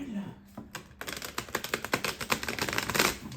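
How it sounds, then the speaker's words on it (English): Tarot cards being shuffled in a series of quick, crisp riffling and slapping bursts that grow busier and denser toward the end, close and fairly loud, with no talking. "But first, I want to shuffle."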